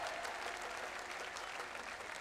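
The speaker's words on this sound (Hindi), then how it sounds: "जोरदार तालियां बजा दो इनके लिए।" Dense, steady crowd applause fills the air at an open-air political rally at Jantar Mantar, Delhi, soft and distant-sounding and continuing evenly throughout without a break.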